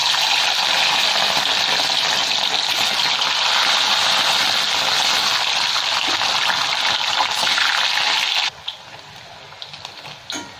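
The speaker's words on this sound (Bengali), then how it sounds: "এবার পনিরগুলো আমি ভেজে নিচ্ছি।" Paneer fries in hot white oil in a kadai with a loud, dense, continuous sizzle for about eight seconds. The sizzle then cuts off abruptly, leaving only a few faint clicks.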